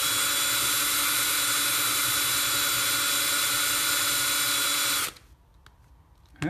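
A power drill with a dull bit grinds steadily at full, loud volume for about five seconds, then cuts off abruptly, leaving quiet workshop noise with faint clicks, while building a Case 2090 model.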